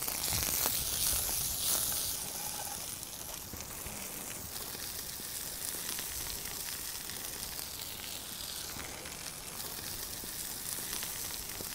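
Artichokes and fish sizzle over an open fire in the Aegean outdoors, a steady close hiss and crackle of frying that runs throughout, slightly louder at the start, with no talking.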